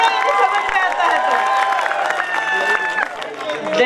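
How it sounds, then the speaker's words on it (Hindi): Loud applause and cheering from a live audience at a Hindi comedy poetry show, a dense crowd roar with clapping and shouts under overlapping speech, steady for the whole stretch. "तो बजाओ एक बार जोरदार तालियां"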